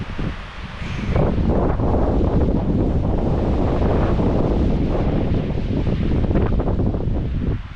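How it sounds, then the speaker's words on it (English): Strong wind at a frozen mountain lake in winter blows steadily and loudly against the microphone, a broad roaring buffet that surges in after the first second and persists throughout with no voices. "There's the wind."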